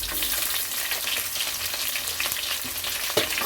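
Small shallots frying in hot oil for a Tamil fish curry tempering: a close, steady crackling sizzle with scattered pops and faint stirring, no voices.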